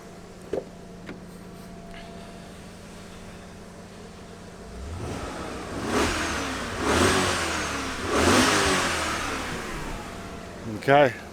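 A 2000 BMW E39 M5 V8 with the bonnet open, idling low and then blipped through a few sharp revs that rise and fall back, heard close in the engine bay with a brief click at the end.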